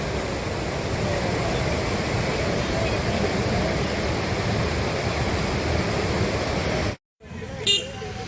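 Floodwater from the overflowing Anaimedu dam rushes in a loud, steady broadband roar close by, continuous for several seconds before a brief cut, with faint voices in the background.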